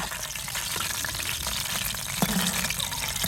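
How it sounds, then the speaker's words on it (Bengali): Chicken lollipops fry in hot oil with a steady dense sizzle and crackle throughout, close and continuous, with one brief soft clink partway through and no talking. "এবার আস্তে আস্তে জাল দিয়ে সুন্দরভাবে ভেজে নেবো, যাতে ভেতরটা ভালোভাবে সেদ্ধ হয়।"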